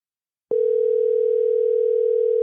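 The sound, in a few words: telephone dial tone after a call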